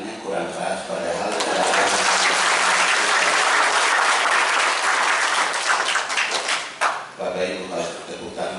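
Audience applause at an installation ceremony for members of the Papua People's Assembly, a sustained dense clapping that swells and holds for several seconds before thinning near the end, with voices mixed in.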